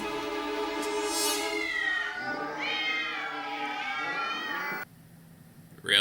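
Several cats meow in overlapping, high, drawn-out calls that come one after another for about five seconds. A brief quieter gap follows before a final louder burst at the end.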